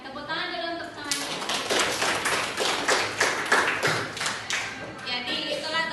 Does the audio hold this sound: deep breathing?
no